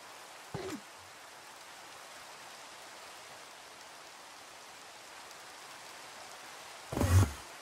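Steady soft rain in Minecraft hisses throughout, broken by two brief thumping noises near the start and end.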